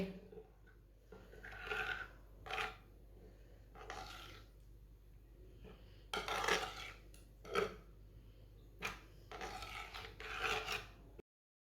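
Semolina and water being stirred in a pot for halwa, a faint scraping and rubbing of a spoon in uneven bursts, quiet and close in a home kitchen.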